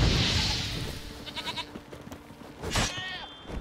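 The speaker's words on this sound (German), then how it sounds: "Oh, guck mal, Ziegen." Goats in The Witcher 3: Wild Hunt bleat a few times amid wind and ambient game noise, with short wavering cries, the clearest one near the end and moderately distant.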